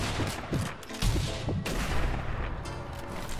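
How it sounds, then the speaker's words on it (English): Rapid overlapping gunshots crack and boom from a zombie sniper and return fire in Zombie Army Trilogy, dense bursts of loud reports with a heavy blast near the start and more shots scattered through the rest. "He's shooting at me now."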